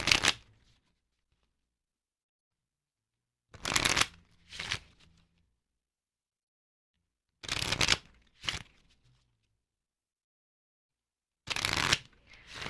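Oracle cards being shuffled in four separate bursts, each a quick riffling flurry of paper snaps with silence between, close and fairly loud with no voices.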